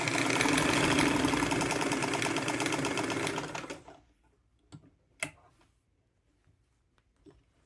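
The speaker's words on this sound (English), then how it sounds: "and start sewing" A Singer Red Eye Model 66 sewing machine stitching fabric, a loud, close, rapid mechanical clatter that runs steadily for several seconds, then winds down and stops, followed by a few faint clicks and knocks in near silence.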